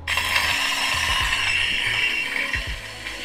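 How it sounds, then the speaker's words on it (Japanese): A hand grinder works through 20 g of coffee beans at a fine, espresso-leaning setting, giving a loud, close, continuous gritty crunching and clicking ratchet sound with rhythmic turns of the crank. "で 20g ですね。 でコーヒーを引いていきます。"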